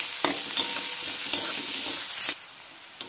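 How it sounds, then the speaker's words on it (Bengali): Finely chopped onions, five of them, fry in hot oil for spicy mutton keema while a spoon stirs them, giving a steady close sizzle broken by several sharp scraping stirs before the frying noise suddenly drops away. "সেই পেঁয়াজটাকে দিয়ে দেব। ছোট ছোট করে কেটে নিয়েছি। এটাকে দিয়ে ভালো করে নাড়বো।"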